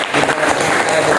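Classroom applause for a student's presentation on alkali metals during a teaching performance test in Makassar: steady, dense clapping from a group, fairly loud and continuous, with some voices mixed underneath.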